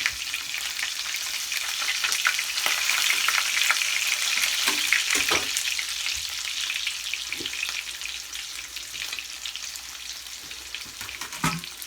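Food frying in a pan, cooked on one side and then flipped, sizzles steadily and loudly throughout with a few soft clicks and scrapes from the turning.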